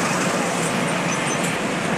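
A jammed stretch of the Pune–Bangalore highway gives a steady, dense roar of idling and creeping vehicles, unbroken and fairly loud throughout.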